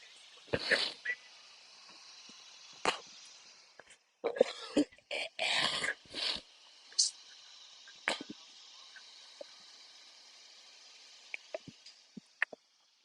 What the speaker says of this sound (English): I had this fucking cough for a while now.